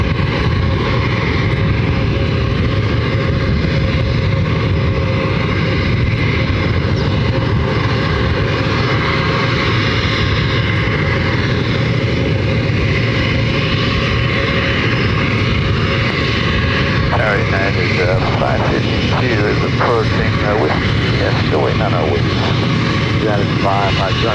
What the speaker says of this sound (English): It's an A320. That is the aircraft that you hear heading over here to runway 26 right.